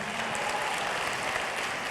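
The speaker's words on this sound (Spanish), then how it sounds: "Si tú lo crees, dale fuerte ese aplauso al Señor." Church congregation applauding during a Spanish-language sermon, a steady dense wash of clapping throughout with no break or rise.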